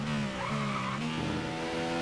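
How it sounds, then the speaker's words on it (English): Formula 1 racing car engine in the F1 2015 video game, at the German Grand Prix, revs high and loud with shifting pitch, tyres squealing briefly over a continuous engine drone. "We're still in 9th as we get the revs up on the engine there."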